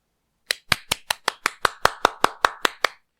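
Crisp, evenly spaced claps, about a dozen in a steady rhythm, close and dry with no other sound around them, more like one person than a crowd.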